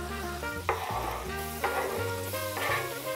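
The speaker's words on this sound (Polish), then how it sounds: "kosteczki pancety do środka wędrują. Słyszycie już ten niezwykle podniecający dźwięk." Pancetta cubes sizzle in a hot frying pan, a steady crackling fry with a few louder bursts as the pieces are stirred, close and continuous with no voices.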